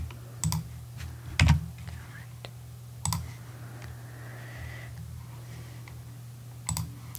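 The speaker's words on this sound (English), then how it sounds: "I'm just gonna type it all in again." Typing on a computer keyboard at a bank desk during a credit card application, heard as sparse clusters of close, soft key taps and clicks spaced several seconds apart over a low steady hum.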